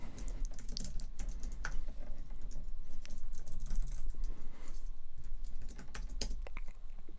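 Rapid typing on a computer keyboard while entering git commands in a terminal, a dense close-up patter of key clicks with short pauses and no talking.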